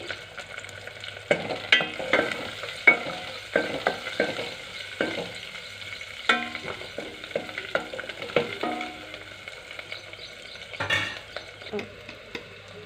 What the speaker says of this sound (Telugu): ఉడకబెట్టిన ఆనియన్స్ కూడా తాలింపులో వేసుకోవాలండి